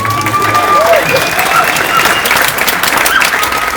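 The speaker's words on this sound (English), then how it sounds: "Yes, you can applaud that." A Hollywood screening audience at a cast Q&A breaks into loud, sustained applause, a dense roar of many hands with faint cheers, steady throughout with some voices audible beneath.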